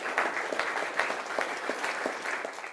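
An audience claps warmly to welcome a panelist, a special educator and psychologist, at a school discussion event. The applause is steady and fairly soft, with no voices over it.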